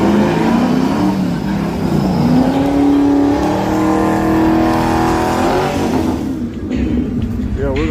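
Car engines roar and rev hard at a street drifting meet, a sustained loud drone that rises and holds in pitch, with crowd voices talking underneath and a brief drop near the end.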